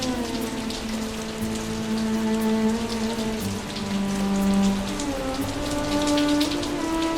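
Steady rain falls on farm crops in an animated story, a continuous close hiss of drops pattering on surfaces with no speech, accompanied by sustained tonal background music.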